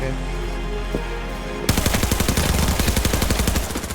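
In Arena Breakout, a quiet stretch gives way to sudden, close, loud automatic gunfire, a rapid even stream of shots that keeps going to the end.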